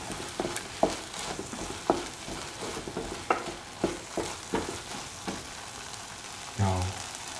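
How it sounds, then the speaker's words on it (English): Spoon stirring salt and pepper powder into pumpkin soup in a pot, a soft sizzling bed with a series of light scraping and knocking strokes at irregular intervals, close and moderate in level. "Mix the salt and the pepper powder."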